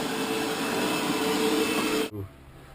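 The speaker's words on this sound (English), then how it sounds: "we've got the vacuum, clean up the mess after the rabbit" A household vacuum cleaner runs aboard a liveaboard boat, a loud steady roaring whine filling the space, then it cuts off abruptly near the end, leaving quiet room tone.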